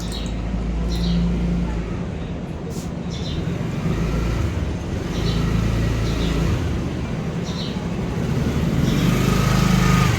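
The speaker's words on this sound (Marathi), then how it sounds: "गाडी येऊन थांबले" A car pulls up and stops nearby with a close, continuous engine rumble and road noise that swells slightly toward the end.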